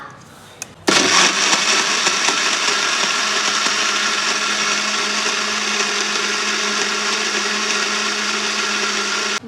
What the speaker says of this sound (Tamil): இப்போ திருப்பி இதை வந்து கிரைண்ட் பண்ணிடலாம்.